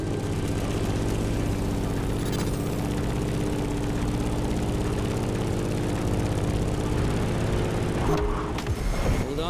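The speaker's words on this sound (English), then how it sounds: "In the cockpit of a stunning Grumman F-8F Bearcat, or simply the Bear" The piston engine of a Grumman F8F Bearcat propeller plane in The Crew Motorfest drones loud and steady from the cockpit, a continuous heavy throbbing roar with a slight shift near the end.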